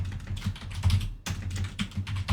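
Someone types quickly on a computer keyboard, a close run of irregular clicks and taps with a brief pause in the middle.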